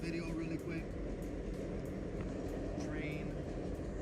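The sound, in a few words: passing train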